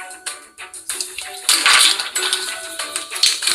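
Toy kitchen forks and knives clatter and clink as they are handled, a run of bright metallic-plastic taps and scrapes at close range, busiest in the middle, with no talking.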